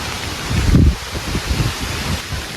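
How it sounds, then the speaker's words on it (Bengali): Strong wind roars with heavy rain during Cyclone Remal, a dense steady rushing wash of broadband noise with gusty buffeting against the microphone. "কেন কি প্রচুর হাওয়া চলছে"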